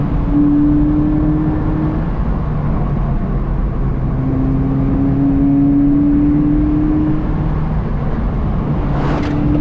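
A Mazda Miata, a rear-wheel-drive roadster, accelerates steadily from inside the cabin, its engine note rising through two pulls with a brief shift between them, loud and continuous with road noise throughout.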